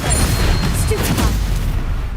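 A loud, continuous booming rumble of a Stupefy spell blast in a Harry Potter video game, dense low-end energy sustained throughout with a brief brighter flicker near the middle.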